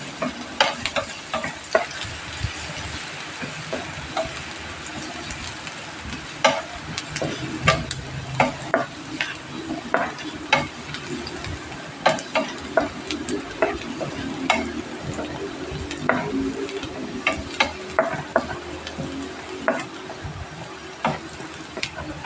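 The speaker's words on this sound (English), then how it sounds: "make sure that the onions are well sauteed" Onions sautéing in a pan for cottage pie sizzle steadily while a utensil scrapes and taps the pan in irregular repeated strokes, close up and without talk.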